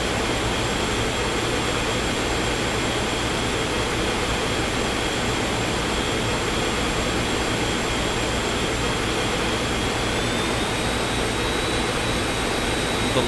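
Jet engines on a climbing airliner in X-Plane 11, a loud steady roar with a high whine that rises in pitch toward the end, droning continuously throughout.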